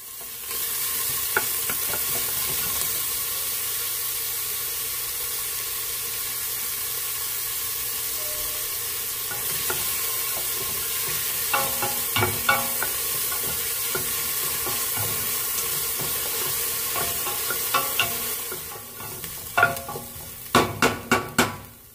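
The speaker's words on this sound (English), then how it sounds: "I'm going to saute that with a pinch of salt until they are translucent" Chopped onions sauté with a pinch of salt in a pan over a medium flame, a steady broadband sizzle running throughout with stirring scrapes and clatters of a utensil, more frequent toward the end, with no talking.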